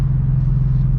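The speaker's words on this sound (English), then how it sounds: "you can definitely hear the intake a lot more, that's for sure" Intake roar from a newly tuned flex-fuel car driving on a wet road, a loud, steady low rumble throughout a single second with no voices.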